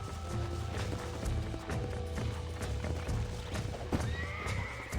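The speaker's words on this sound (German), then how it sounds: "Fang noch ein Wildpferd." Hooves clip-clop steadily while a wild horse neighs in Red Dead Redemption, with game background ambience throughout and no speech.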